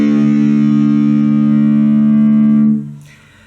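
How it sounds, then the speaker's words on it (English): A distorted electric guitar with its sixth string tuned down to drop D rings out as one sustained low chord with effects, holding steady for nearly three seconds before fading, with a faint brief noise at the end. "so you need to tune your 6th string down till it sounds like this."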